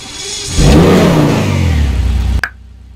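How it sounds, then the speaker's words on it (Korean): The engine of an Obey 10F Widebody car in a video game revs hard, jumping from a low idle to a loud, sustained, rising roar that cuts off abruptly with a brief click. "제가 이제 엔진 소리 들어볼게요."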